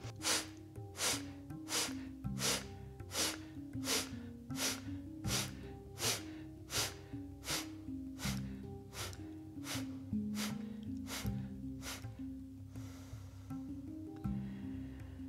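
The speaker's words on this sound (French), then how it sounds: "peut-être Kapalabhati, quelques expirations pour bien motiver le ventre, bien motiver les organes digestifs" Kapalabhati yoga breathing, a run of forceful nasal exhalations in a steady quick rhythm, about a dozen sharp puffs close up over soft background music, then a pause before a final exhale.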